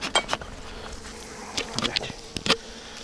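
A honeybee colony buzzes on crowded hive frames, with close bursts of bees flying past over a faint, steady hum, alone without talk.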